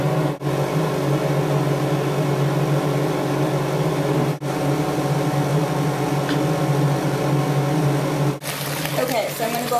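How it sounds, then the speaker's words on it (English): A bathroom ventilation fan wired to the light runs with a steady, even whir and low hum throughout, with a few brief dips. It sounds close and constant. "the fan is linked to the light, so we're trying to fix that."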